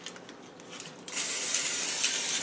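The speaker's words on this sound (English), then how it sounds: "I'm going to use a little bit of butter, spray butter" Spray butter hisses out of a can onto a hot grill pan in a home kitchen, a steady, close spray that starts after a brief pause and keeps going to the end.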